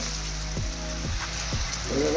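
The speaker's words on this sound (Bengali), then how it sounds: "সবগুলি আলু তেলের মধ্যে এভাবে দিয়ে দিচ্ছি" Sliced potatoes for jhuri bhaja frying in hot oil, giving a steady, close hiss and sizzle throughout, with faint clinks and scraping from the pan.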